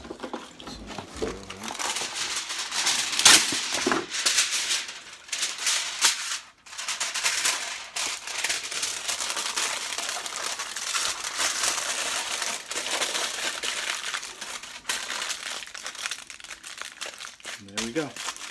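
Aluminium foil crinkles and crumples as smoked venison, pork and bratwurst get wrapped on a grill, a close, busy rustling that keeps going with a few sharper crunches, while a person talks over part of it.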